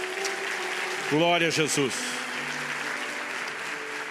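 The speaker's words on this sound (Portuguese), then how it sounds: "Você pode dar ao Senhor um forte aplauso" Congregation applause at a church service, a steady broadband patter running the full four seconds while a voice speaks and briefly sings out over it.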